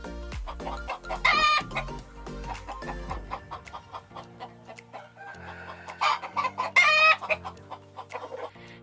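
A rooster with large spurs clucks and crows nearby, two loud drawn-out crows separated by a run of low clucks and rustling.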